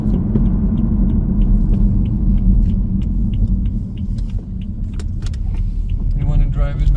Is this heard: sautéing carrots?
no